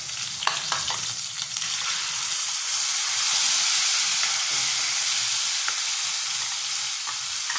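Tomato paste hitting a hot pan while a paneer curry cooks, giving a steady, close sizzle and hissing fry with a few soft stirring scrapes, with no talking.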